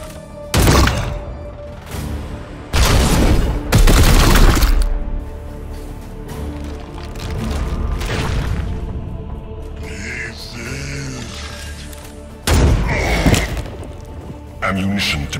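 Gunfire and explosions in the Warhammer 40,000: Chaos Gate video game, several loud heavy bursts separated by quieter stretches with game sound effects, punchy and close.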